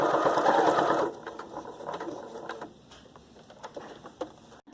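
A sewing machine stitches scarf handles onto a reusable shopping bag made from Dollar Tree scarves: a loud steady run for about a second, then quieter, intermittent mechanical ticking and clicks.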